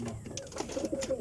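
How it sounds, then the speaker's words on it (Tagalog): Soft, low pigeon coos close by, brief and murmuring, over faint background noise. "pinapakain ko guys yung mga kalapati ko guys"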